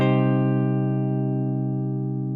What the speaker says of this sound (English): If you lift your second finger, you can hear that this chord becomes minor.